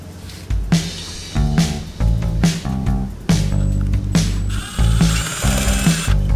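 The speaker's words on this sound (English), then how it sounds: "Looks like 3 screws will take off this trim ring." Ratchet turning the trim ring screws off a Datsun 280Z headlight, a close, loud run of rapid clicking pawl strokes in short repeated bursts with brief pauses.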